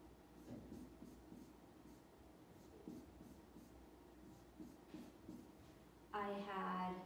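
Pencil or marker drawing pictograph pictures on paper for a graphing journal math lesson, a soft scratchy stroking in short repeated bursts, close and quiet, with a voice speaking briefly near the end.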